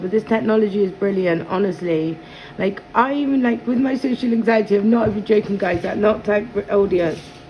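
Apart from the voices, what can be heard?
No everyday noise stands out behind the speech.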